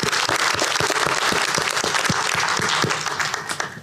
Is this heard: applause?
yes